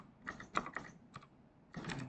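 Someone types a notebook title on a computer keyboard, quiet close keystrokes in short clustered bursts with brief pauses between them.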